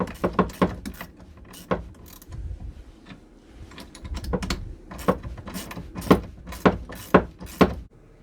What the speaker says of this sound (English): 7/16 socket and a wrench, and I'll just snug these up a little bit.